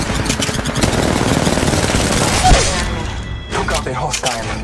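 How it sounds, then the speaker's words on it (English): Automatic gunfire in Apex Legends Mobile rattles in rapid bursts at close range, with a heavy thump midway, then fades into sparser scattered shots. "Shots fired at me."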